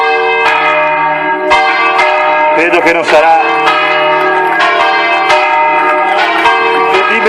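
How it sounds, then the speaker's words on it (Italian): Church bells ring loudly in a repeated, overlapping pealing pattern in Farra di Soligo, Italy, with a person speaking briefly underneath. "incredibile come le campane suonano in un atto particolare"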